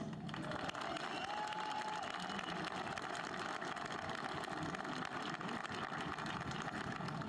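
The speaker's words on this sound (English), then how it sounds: "Let's give another round of applause to our amazing band." Sustained applause from a large graduation audience at Santa Fe High School for the school band, an even roar of many hands clapping from start to finish, with faint cheers mixed in.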